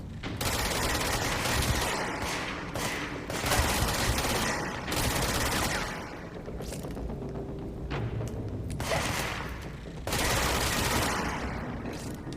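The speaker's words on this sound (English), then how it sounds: "Let's try the SMG against this guy." SMG gunfire in the video game Control, rapid automatic bursts repeating across the stretch, loud and dense with brief gaps between volleys.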